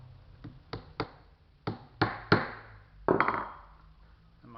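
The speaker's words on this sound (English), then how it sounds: "Tap your nails in, flip it over" Hammer tapping nails into wall studs, about eight sharp close knocks in an irregular rhythm, some in quick pairs, with quiet gaps between.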